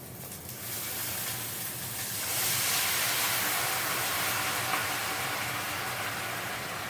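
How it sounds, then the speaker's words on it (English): Boiling stock poured over toasted rice for a pilaf sets off a steady, loud hissing sizzle that swells and holds from about two seconds on, with no talking. "after that, we're going to put in the boiling stock."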